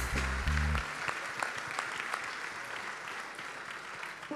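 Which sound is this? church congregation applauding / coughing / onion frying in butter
church congregation applauding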